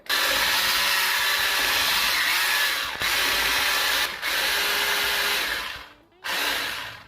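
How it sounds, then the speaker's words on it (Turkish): An electric hand mixer with attachments fitted runs at a steady high whine while making Turkish acıbadem cookies, cutting out briefly twice and pausing near the end before starting again, with no talk. "Yine blenderımız yardımıyla aparatları taktık mikserini."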